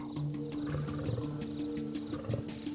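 A lion roaring at nightfall in the African bush, a series of deep rumbling grunting roars in a rhythmic sequence, fairly distant and low, heard alone over soft ambient night noise.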